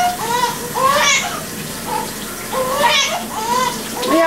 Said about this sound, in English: I'm going to rinse my hands off right quick